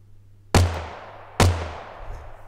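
Two designed gunshots in the style of a pipe gun or homemade gun, sharp and loud, about a second apart, each with a low thump and a decaying tail.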